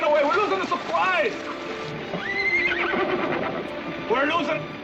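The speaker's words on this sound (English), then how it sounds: "The horse is getting away." A horse whinnies loudly several times in repeated rising-and-falling calls, close by, with water and commotion in the background.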